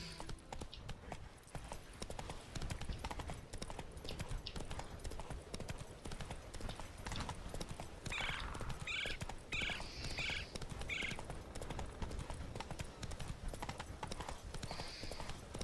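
A horse gallops in The Witcher 3: Wild Hunt with a fast, steady clip-clop of hooves over ambient game sound, and a few short bird calls break in partway through.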